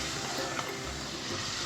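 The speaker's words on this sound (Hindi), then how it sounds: "और इसको तब तक फ्राई करेंगे जब तक लहसुन अदरक के साथ ये गोल्डन ना हो जाए।" Prawns fry with garlic and ginger in a karahi, giving a faint, steady broadband sizzle with no talking.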